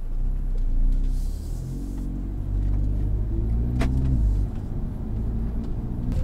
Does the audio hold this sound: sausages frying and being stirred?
no